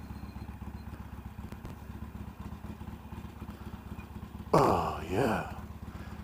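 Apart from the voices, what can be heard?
motorcycles at a driving school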